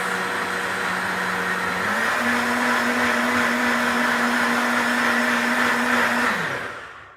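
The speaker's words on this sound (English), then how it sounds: "Never forget to put the lid on your blender. So that's on for about 10 seconds." A blender whirs loudly and steadily for several seconds, shifting up slightly in pitch partway through before winding down at the end.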